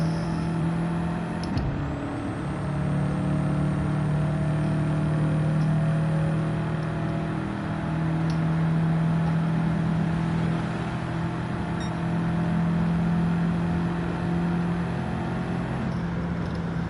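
Race car engine in Gran Turismo 7 holding a steady, droning rev at high volume throughout, with a brief shift-like change near the start and no talk over it.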